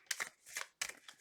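Tarot cards being shuffled by hand, three quick riffling bursts of papery flutter separated by short pauses, soft and close with no talk over them.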